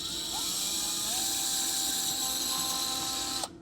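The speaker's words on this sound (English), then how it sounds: "So we're going to get this drilled away real quick." A power drill whirs steadily at close range while drilling screw holes to mount rock lights on an SCX6 RC crawler, its motor pitch rising as it bites in, then cuts off abruptly at the end.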